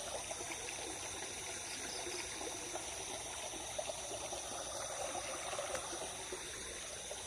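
River water spills over a small weir outdoors in a continuous soft rushing and trickling wash, fairly distant and even, with no one speaking.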